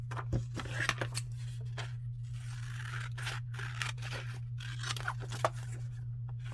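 Scissors cut paper for a journal, a quiet close run of irregular snips and crisp crunching cuts spread across several seconds over a steady low hum.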